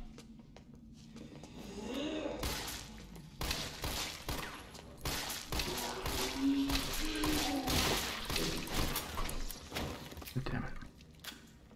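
Sharp gunshots in Resident Evil 3 Remake, a string of loud bangs in irregular succession over a low game ambience, with a voice talking at times.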